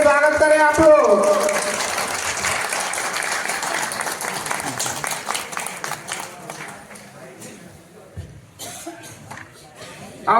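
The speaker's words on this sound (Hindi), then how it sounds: "ताली बजा करके स्वागत करें आप लोग।" An audience in a community hall in Mau gives sustained applause at a Suheldev Bharatiya Samaj Party membership gathering. A voice speaks briefly at the start, then dense clapping continues and thins slightly toward the end.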